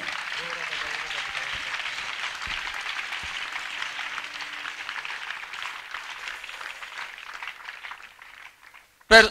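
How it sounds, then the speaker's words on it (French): Applause and acclamation from a church congregation at a French-language preaching convention, a steady broadband wash of clapping and voices lasting several seconds, with a sharp loud burst right at the end. "Acclamation."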